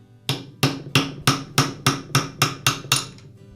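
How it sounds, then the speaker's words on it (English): Nine evenly spaced rubber mallet taps drive an armature shaft out of a bearing in a Makita angle grinder cover held in a vise, each blow a sharp close knock. "using a rubber mallet, I'll tap the armature shaft away from the bearing"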